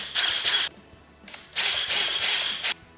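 Power drill boring pilot holes in a pop-up camper roof cap, several short high-pitched whirring bursts with brief gaps between them, close and clear.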